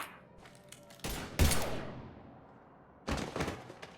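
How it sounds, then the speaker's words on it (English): Gunfire from the video game Mass Effect 3 comes in bursts: a loud volley, a heavy blast, then another burst after a pause. The shots are close and sharp, with no speech over them. "Now open fire!"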